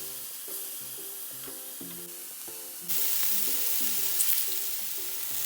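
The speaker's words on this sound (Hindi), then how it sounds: "वेजिटेबल्स आप वैसे ही ना हाई फ्लेम पे पका लें" Vegetables grilling over a high flame for a Middle Eastern chicken kebab platter give off a steady sizzle that grows louder partway through, with soft background music and no speech.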